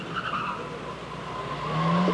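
A gymkhana car skids around a track at a 1988 JMRC Kanto event at Kanetsu Sportsland, its tires squealing in long smeared tones over engine noise, heard from a distance and moderately faint.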